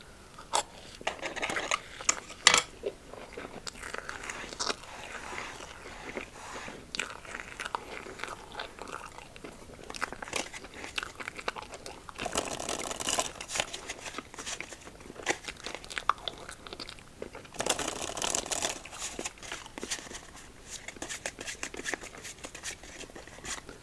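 Crunching and chewing bites of Peeps marshmallow candy, eaten with a chopstick, in close, steady mouth sounds with occasional sharper crunches, with no talking.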